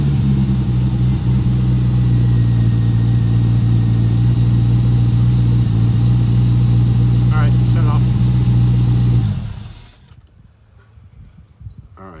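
A Chevrolet C8 Corvette engine runs at a loud, steady idle close by, with a brief rising whine partway through before the engine shuts off and leaves near silence.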